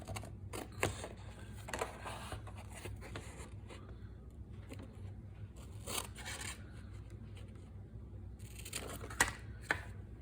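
Scissors snip through a piece of stiff card for a Christmas library card pocket craft, giving a series of quiet, close, irregular cutting and rasping sounds with pauses between them.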